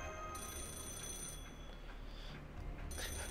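A telephone rings in the mobile game Fate/Grand Order, a steady electronic ringing tone repeating at moderate level across the whole stretch, with no voices over it.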